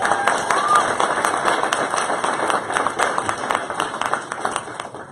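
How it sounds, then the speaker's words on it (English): An audience in an office presentation claps for two co-workers, dense steady applause of many hands throughout, with some cheering and voices mixed in. "Round of applause for both of them"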